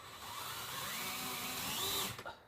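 Power screwdriver whirring steadily as it drives screws into a frame, a continuous close motor whine that ramps up slightly before stopping abruptly near the end.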